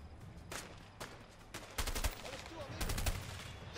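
Gunfire rings out during a shootout in the video game A Way Out: several sharp bursts of rapid shots, some single cracks and some quick volleys, heard at a moderate level against quiet background noise.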